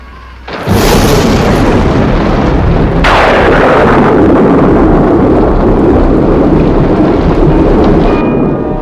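Heavy thunder rumbles and cracks loudly over steady pouring rain in a Thunderbirds episode, with a sharp new clap partway through that rolls on into a long, roaring storm.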